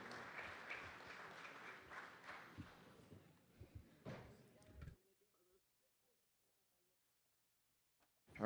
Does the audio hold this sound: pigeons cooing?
no